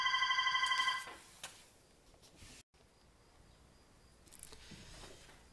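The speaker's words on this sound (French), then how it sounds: "donc on a été coupé par la sonnerie." A telephone bell rings in a rapid, pulsing trill for about a second and then stops, leaving a quiet room with a few faint clicks and rustles.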